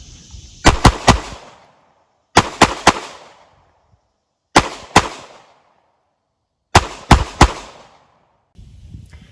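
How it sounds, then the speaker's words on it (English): A Glock pistol fires at a target in four quick bursts of two or three loud, close shots each, with short echoing tails and pauses between groups. "now let's see if we can effectively combat focus shoot and hit the target without using mechanical sights."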